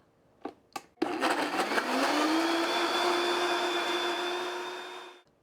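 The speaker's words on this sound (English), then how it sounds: "Okay, so now that's nice and blended." A kitchen blender fires up after a few taps and runs steadily for about four seconds, a loud whirring motor with a rising pitch that settles into a constant drone, blending a smoothie with chia seeds and flax seed, then cuts off.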